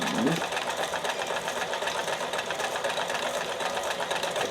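A sewing machine runs steadily at a fast, even rhythm while a person works out its foot pressure and thread tension. The rapid mechanical chatter continues without a break throughout.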